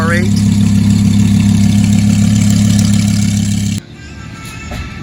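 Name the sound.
Audi R8 engine as the car drives away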